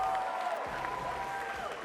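A crowd at a boxing match breaks into brief, dense applause, a steady wash of clapping with faint cheers.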